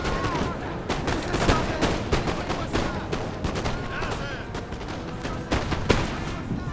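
Musket volleys and scattered gunfire crackle continuously in a Napoleon: Total War multiplayer battle at Waterloo, dense overlapping shots across the whole stretch with talk over the top.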